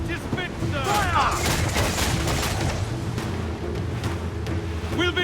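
Ship cannons fire in a naval battle in Assassin's Creed 4: Black Flag, with a rolling volley of heavy booms over sea and wave noise and shouted voices at the start and end.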